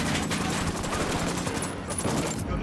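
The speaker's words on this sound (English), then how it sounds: "I'm shooting these fuckers." Dense, loud gunfire from the video game Ghost Recon Wildlands, a continuous rattling burst of rapid shots filling the whole moment without pause.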